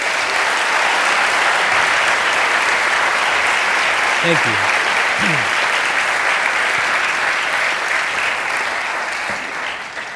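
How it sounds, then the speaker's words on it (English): An audience at a talk at Dominican University of California claps in sustained, dense applause that stays loud for about ten seconds, with a brief spoken thanks heard over it. "Give him a round of applause, everybody."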